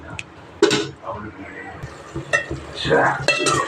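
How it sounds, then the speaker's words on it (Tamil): Tomatoes being sautéed in a pan for a fenugreek curry, with a spoon scraping and clinking against the metal in short bursts over a soft sizzle, close by and partly under a voice talking. "தக்காளியை நல்லா வதக்கிட்டுருக்கோம்"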